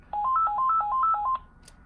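A cordless landline phone handset emits a paging tone: a quick, alternating two-pitch electronic warble repeated about a dozen times in a single burst, clear and close.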